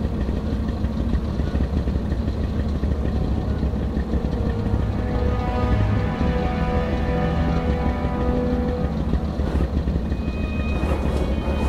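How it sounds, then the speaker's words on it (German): A tank climbs a hill in Red Orchestra 2: Heroes of Stalingrad, its engine droning loud and steady with a low rumble and clanking tracks throughout. "Befehlen Sie jetzt Ihrem Fahrer, den Panzer für eine Schießübung dort auf den Hügel zu bringen."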